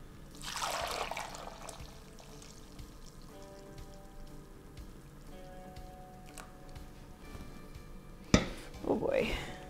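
Curdled cheese mixture for an ancient Roman savillum cheesecake is poured into a cheesecloth-lined pan, giving a soft, splashy trickle at the start and again near the end, with faint background noise and a voice talking in between.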